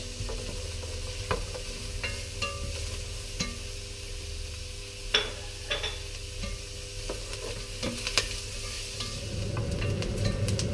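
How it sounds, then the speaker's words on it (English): Onion and crushed garlic sizzle over high heat in a pan for a Greek pastitsio base: a continuous crackling fry broken by irregular utensil clicks and stirring scrapes, close and without speech. "I'm just going to cook up my onion a little before I add some garlic"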